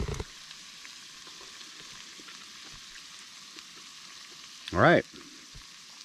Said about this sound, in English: I thought I'd just fry it up a little more.